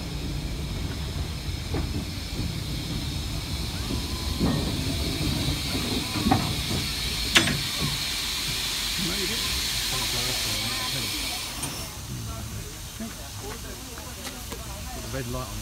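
Steady broad hiss of a steam locomotive fills the scene, with scattered clanks and a brief sharp burst partway through, then easing slightly.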